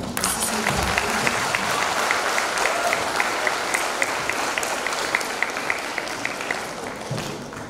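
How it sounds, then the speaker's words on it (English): An audience claps steadily at a school investiture ceremony, a loud, dense, continuous patter of many hands with scattered sharper claps over the whole stretch. "Please clap for them."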